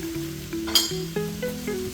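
Tomato paste is stirred into a sizzling roux for crawfish étouffée, a close, steady frying hiss with a few scraping and clinking utensil strokes in the pot.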